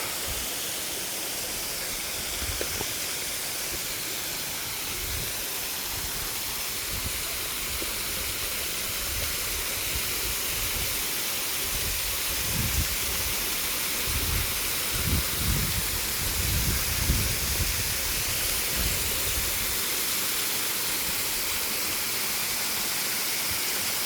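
Rushing water from a hidden waterfall near Minto, a steady broadband roar that fills the whole stretch, loud and continuous with no talking over it.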